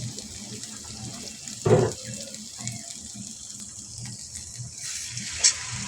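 Liquid broth poured into a pan of fried eggplant curry being cooked with hilsa fish, a steady watery gush running throughout with a louder splash partway through and a brief clink near the end.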